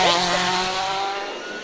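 A rally car at full speed on a tarmac stage at the 2011 WRC Rally Germany, its engine a loud, sustained high-revving roar with steady harmonic whine, holding close for the whole moment before easing slightly.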